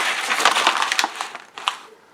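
An old hardbound book cover being squashed in a press, giving a loud, dense run of crackling, splintering crunches that ease into sparser snaps and creaks toward the end, with no voices.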